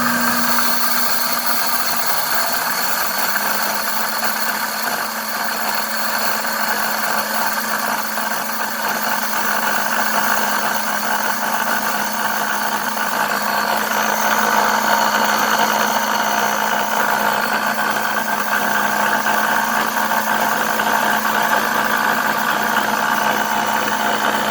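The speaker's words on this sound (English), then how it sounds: "Switch this dial to grind and hit the start button. And let's watch this turn it into flour." A Pampered Chef Deluxe Cooking Blender grinds wheat berries into flour with a loud, steady, high-pitched motor whine and gritty rattle that holds constant throughout, with no talking.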